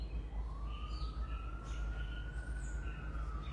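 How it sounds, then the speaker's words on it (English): A faint emergency vehicle siren wails in the distance, one long rising tone over low rumbling background noise, with a few bird chirps around it. "Sirens."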